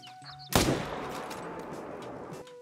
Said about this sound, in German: Ich mache mal 300 Meter Schuss.